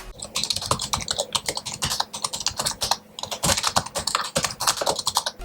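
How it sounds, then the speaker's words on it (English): Rapid clicky typing on a tablet's detachable keyboard, close and crisp with irregular bursts of keystrokes and short pauses. "The keys are clicky and feel good in comparison to the chiclet style keys that are on most laptops and tablets these days."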